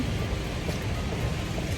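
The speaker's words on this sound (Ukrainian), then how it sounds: "Цілий день іде дощ, просто нереально. Покажу вам кадри, як дощить." Heavy rain falls on a Paris street in a dense, loud, continuous wash of splashing and rumble, close by with no voices.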